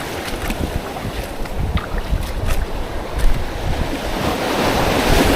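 Sea waves wash over a rocky, slippery shore, a loud continuous surf rush with rolling swells and wind buffeting the microphone, close and swelling toward the end.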